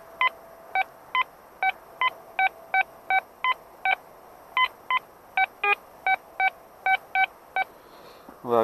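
A Quest Q40 metal detector sweeping a field gives a steady run of about twenty short, clear electronic beeps in an even rhythm, loud and close, with no talk.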